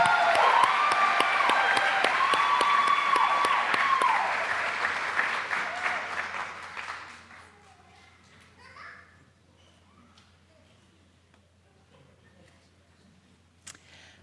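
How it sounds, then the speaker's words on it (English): Audience at a staff recognition event applauds an honoree posing for a photo, the clapping strong at first and then fading out after about seven seconds into a quiet room with faint murmurs. "Let's give Peggy another round of applause as we pause for a photo"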